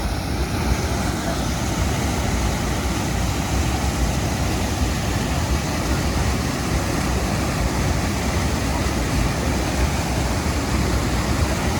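A waterfall on the Ajay river at Illambazar rushes and roars in a steady, loud, unbroken wash of falling water heard up close.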